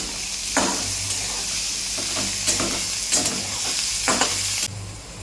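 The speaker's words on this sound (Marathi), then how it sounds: "आता तर 1 कांदा त्यात सोडून घ्यायचा. त्याला हलवून" Chopped onion frying in hot oil with garlic in a pan, a steady close sizzle broken by several scraping stirs of a spoon against the metal, with no voices.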